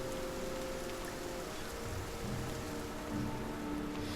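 Steady rain falls in The Banner Saga 2, a soft, even hiss of drops that runs unbroken and fairly quiet, with no voices over it.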